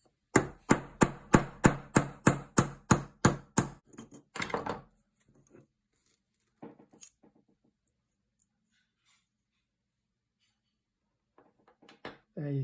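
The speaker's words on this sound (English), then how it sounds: "I'll have to do it off camera because I need to swing the hammer" A hammer drives a small part out of a Beretta 687 Silver Pigeon shotgun action during a full strip-down: about ten rapid, evenly spaced sharp blows, then near-silence with a few faint scattered knocks.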